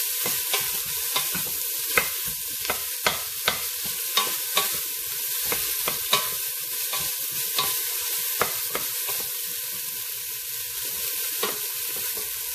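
Ingredients sizzle and fry steadily in a pan, sautéed before beef goes in for adobo, with frequent scraping and tapping stirs across the whole stretch. The sound is loud and close, with no talking.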